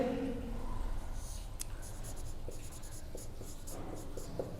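A marker scratches and squeaks across a board during a physics optics lecture, with steady, close strokes and short taps that run for several seconds with no talk.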